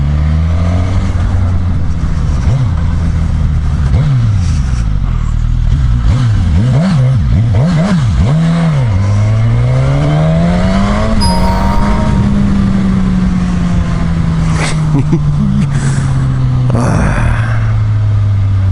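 A 2015 Suzuki GSX-S1000 motorcycle engine on the road, loud and close, revving in repeated rising and falling bursts through the gears, then settling into a steady climbing drone with wind rush.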